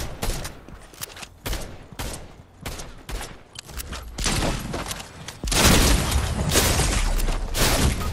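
Rapid Fortnite gunfire crackles in dense volleys, growing louder and more continuous toward the end, like an intense firefight.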